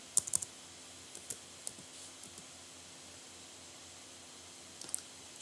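Light clicks from typing on a computer keyboard, a few scattered keystrokes near the start and again near the end over a faint hiss.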